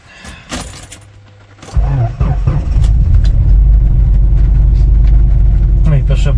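Keys jingle and click near the start, then a car engine cranks and catches, settling into a loud, steady, rough idle rumble that continues to the end; a voice speaks briefly.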